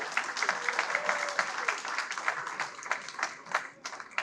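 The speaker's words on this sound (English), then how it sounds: "Round of applause for Mayor Pekau." A crowd at a veterans golf classic speech event applauds Mayor Keith Pekau of Orland Park with a steady stretch of clapping from many hands, fairly close, with a brief voice underneath early on.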